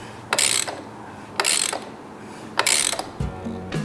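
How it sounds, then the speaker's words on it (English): Rebuilt dual sport motorcycle engine turned over by hand or kickstart, three clattering mechanical ratcheting bursts spaced about a second apart, close and moderately loud, followed by a brief low hum. "I turned the motor over once more just to make sure everything still sounded all right."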